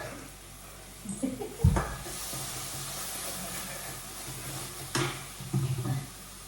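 Tomato and green chillies hitting a hot pan for homemade desi fried rice give a steady sizzling hiss with a sharp burst as they go in, plus clattering stirring, all close and moderately loud.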